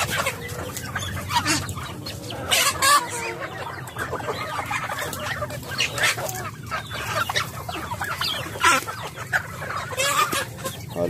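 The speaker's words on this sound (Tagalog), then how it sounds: "Halo-halo na yun. Pabo, manok, pato." Turkeys, chickens and ducks at feeding time make a steady chorus of clucks, squawks and calls, close and continuous, with no talk over them.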